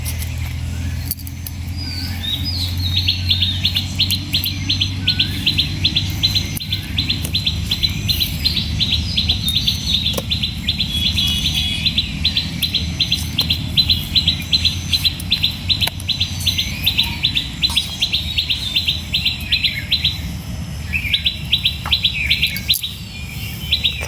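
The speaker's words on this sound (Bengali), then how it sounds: "পাখির ডাকটি কত সুন্দর," Small birds chirp in the morning, a steady stream of bright, rapid calls repeating for the whole stretch over a low rumble of background noise, with no talking.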